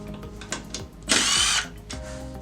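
A power drill whirs for about half a second as it loosens screws on a weak plastic five-port pool valve, set between small clicks and handling noises close to the microphone.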